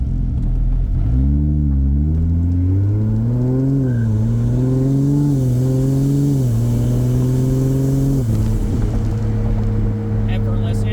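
A Nissan S14 with a swapped 2JZ engine and 8HP70 automatic transmission pulls away, its deep engine note rising smoothly through several quick upshifts, each with a brief dip in pitch, heard from inside the car with a low cabin rumble.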